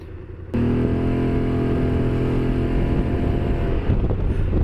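A scooter engine kicks in abruptly and holds a steady, droning hum at constant pitch, close and loud, with some wind noise.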